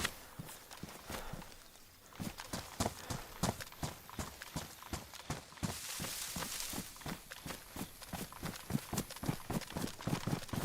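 Rapid, regular footsteps crunch close by in DayZ, running steadily for the whole stretch with a brief pause early on and no talking.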